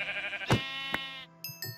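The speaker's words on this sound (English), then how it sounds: "Ooh, another sheep?" A sheep bleats in the Minecraft video game, one wavering, nasal bleat up close followed by a couple of short clicks and light blips.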